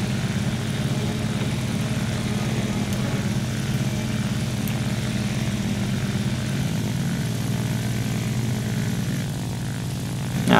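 Steady droning propeller engine of a J2M5 Raiden fighter in War Thunder, loud and constant throughout with no talk, a brief swell right at the end.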